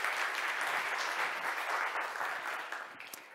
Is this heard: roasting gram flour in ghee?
no